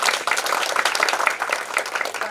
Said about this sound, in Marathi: ते एकदा या टीचर करता टाळ्या झाला पाहिजे